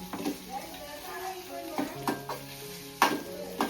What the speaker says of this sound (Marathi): पेस्ट टाकली अद्रक लसूण मिरचीची. परतून घेतं बघा